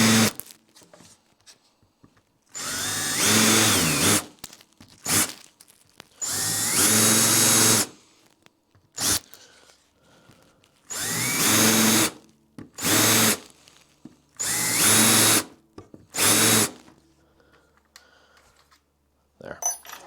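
A power drill countersinks screw holes in a wooden backplate, whirring in six or seven loud bursts of a second or two each, separated by quiet gaps with small handling clicks.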